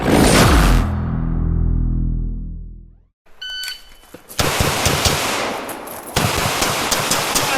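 An M&P9 M2.0 Performance Center pistol fired at a USPSA classifier match, with sharp shots, a decaying tone, then a fast string of rapid close shots and beeps.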